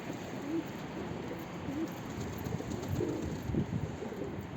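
Soft, low pigeon coos come several times in short phrases against steady outdoor background noise, with no talking.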